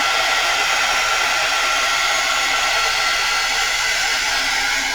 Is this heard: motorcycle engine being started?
no